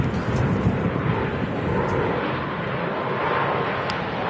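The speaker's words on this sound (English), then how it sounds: "ATR shouldn't use much runway here." An ATR turboprop airliner takes off from the runway at Manchester Airport, a steady broadband engine roar holding loud and even throughout with no talk.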